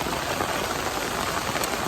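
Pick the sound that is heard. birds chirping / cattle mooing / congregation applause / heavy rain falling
heavy rain falling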